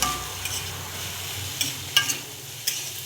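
Carrots and peas frying in ghee for fried rice, a soft steady sizzle with a few light stirring taps, close but fairly quiet, and nobody speaking.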